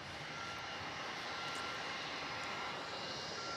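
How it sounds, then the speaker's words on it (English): A Jetstar Airbus A320 jet taxis onto its bay at Melbourne Airport, its engines giving a steady, fairly distant roar and hiss that holds unbroken throughout with no voices. "Who's making all that noise? Jetstar coming in onto the bay."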